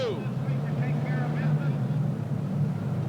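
A pulling tractor fitted with two Allison aircraft engines roars steadily at an indoor tractor-pulling event, a continuous deep drone with speech over it.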